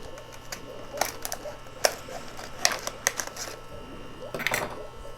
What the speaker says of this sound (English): take our scissors and cut the pot open